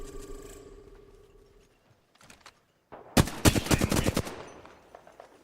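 Gunfire in the video game Apex Legends, a close burst of rapid automatic shots in a quick rhythmic string, after quieter mechanical clicks and a short lull.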